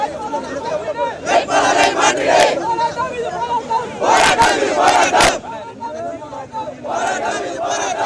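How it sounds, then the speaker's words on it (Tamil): Protesters at a road blockade outside a star hotel where a TVK candidate announcement meeting was held shout and chant in loud, surging bursts, a dense crowd roar rising and falling throughout. "தாவேக வேட்பாளர் அறிவிப்பு கூட்டம் நடைபெற்ற நட்சத்திர விடுதியை முற்றுகையிட்டு ஆர்ப்பாட்டம் நடத்தியதோடு சாலை மறியலில் ஈடுபட்டதால் பரபரப்பு"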